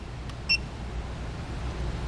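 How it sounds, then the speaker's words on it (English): A TST TPMS tire pressure monitor for RVs gives one short, sharp electronic beep as its set button is held, alone over a faint low background hum. "So what we're going to do is hold down set until it beeps. It's going to beep like that."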